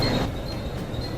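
A train at Bandra railway station in Mumbai gives a brief, steady rumble with a thin metallic whine riding on top, heard from close by with no talking.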